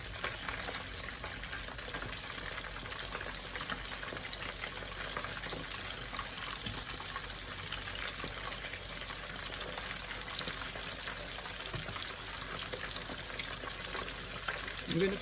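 Meatballs fry in a pan with a steady, close sizzle and crackle that holds evenly throughout, with no pause or break.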